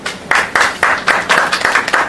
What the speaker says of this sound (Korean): 네, 박수입니다.